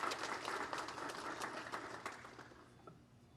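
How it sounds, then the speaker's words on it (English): A round of applause at a school board meeting, a room of people clapping steadily before the sound thins and fades toward the end, moderately distant and fairly soft. "We have a round of applause for her."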